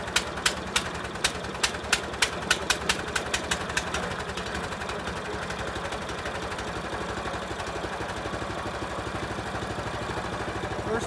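Small gasoline engine on a Harbor Freight sawmill, starting with a quick run of sharp pulling or sputtering beats, then settling into a steady, close, continuous idle.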